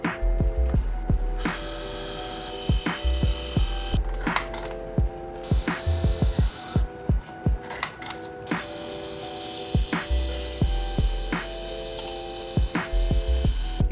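Label printer running off labels for bottles of Honeycrisp apple cider: a close, busy mechanical whir with rapid rhythmic clicks and ratcheting ticks, pausing briefly between bursts, with no speech.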